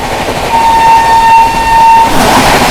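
The Sealdah–New Delhi Rajdhani Express rushes past close by, a loud continuous roar of rail and wagons with a long sustained horn blast sounding over it for most of the pass.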